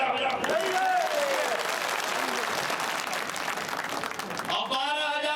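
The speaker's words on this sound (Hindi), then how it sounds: "ताली बजाओ।" Applause from a crowd at an outdoor Lok Sabha election rally in Khod, Shivpuri, a dense, steady burst of clapping lasting several seconds with a voice heard over the start.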